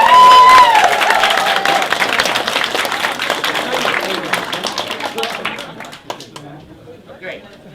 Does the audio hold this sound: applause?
yes